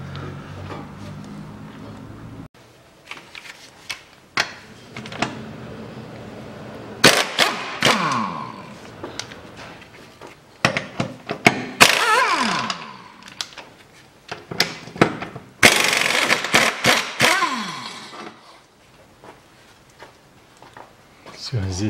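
Tools clatter and clank while subframe bushing bolts are undone on a Nissan Qashqai 2.0 4WD, with sharp metallic knocks and ratchet clicks arriving in irregular bursts, fairly close and loud with no talk.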